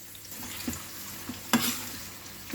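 Sliced onions fry in moderately hot oil until light golden brown for birista. A soft, steady sizzle carries on with occasional stirring clicks and one sharper scrape, fairly quiet and close, with no voices.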